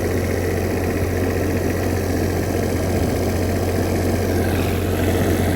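An Onan generator engine runs at a steady, loud drone with a constant low hum and mechanical vibration throughout, unbroken and with no voices.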